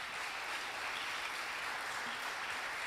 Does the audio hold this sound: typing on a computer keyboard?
no